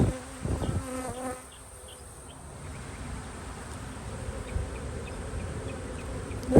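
Honeybees buzz steadily around a nuc hive being installed into a Hive IQ box, a close, continuous hum that follows a few brief knocks and clatters at the start.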